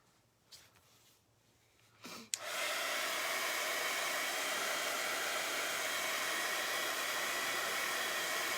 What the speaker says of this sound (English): Use my little heat gun